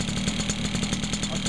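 A Motobecane moped engine with a leaky gas line runs steadily close by, its small single-cylinder putter pulsing in an even, rapid rhythm with a faint metallic rattle throughout.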